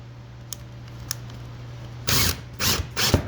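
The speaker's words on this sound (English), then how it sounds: "I can actually pound these little Torx screws into the tabletop, the particle board tabletop, and then start them" Small Torx screws hammered into a particle board tabletop: after two faint ticks, three loud, close broadband knocks land in quick succession near the end over a low steady hum.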